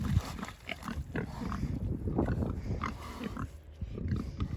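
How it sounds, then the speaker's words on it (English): Pigs grunt and snuffle while wallowing in mud on a farm on a warm July day, a steady close run of low grunts and wet shuffling with no talk. "And they're just being pigs."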